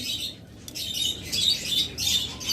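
Chirping birds at a bird seller's stock of doves (ghughu) and other cage birds, bursts of high tweets and squawks repeating every second or so at moderate level, no talk.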